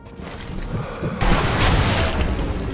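Sniper rifle fire in the World War II shooter Sniper Elite V2, a loud sudden blast about midway that cuts in over quieter battle noise and then rings on in a dense, echoing tail.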